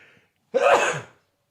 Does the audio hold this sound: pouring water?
no